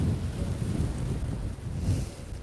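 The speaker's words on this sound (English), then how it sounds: "It's very windy." Strong wind blows through an outdoor garden in October, a steady, heavy rumble of gusts buffeting the microphone with no pauses and no talking.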